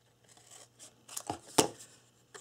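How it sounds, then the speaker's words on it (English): Scissors snipping corners off paper at an angle while making a chest, giving a few brief crisp cuts and crinkles, one loud sharp snip in the middle, close and alone. "let's go ahead and take our scissors, and on all 6 just miter cut the corners just like that"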